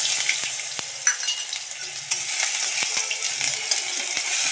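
Garlic paste, whole black cumin and a dried red chili frying in hot oil, a steady sizzle with scattered sharp ticks and taps from a stirring spoon against the pan.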